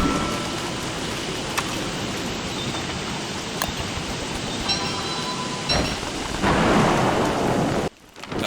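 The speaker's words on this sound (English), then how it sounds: "Since it's raining" Steady heavy rain hisses throughout a Don't Starve game world, with a sharp thunder crack midway and a louder downpour swell near the end before a sudden cutoff.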